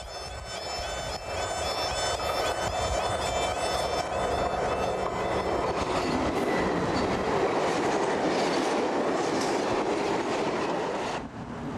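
A British Rail Class 60 diesel locomotive passes close by with a steady, loud engine drone and rumbling wagons, rail clatter sustained throughout before easing at the end.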